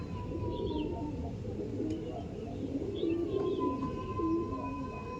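Pigeons for sale at a market cooing softly against a busy background murmur, with a faint chirp here and there.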